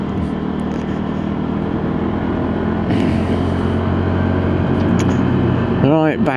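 Lexmoto Diablo motorcycle ridden on a road, its engine droning steadily and loud throughout with a brief rise in pitch near the end as it accelerates, mixed with wind noise.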